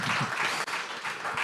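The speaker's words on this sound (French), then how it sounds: "Et puis, vous pouvez applaudir." Audience applause at a French conference on the future of food supply chains: steady, dense clapping from a seated crowd, fairly loud and continuous for its whole short length, with no talking over it.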